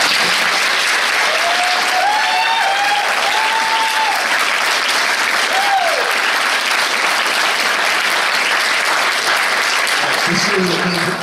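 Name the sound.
applause from debate audience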